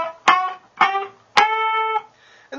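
Electric guitar playing double-stop string bends in a short riff: three distinct bent two-note strikes, each ringing and sliding in pitch, the last one sustained longer before a fourth attack begins, played alone without talk.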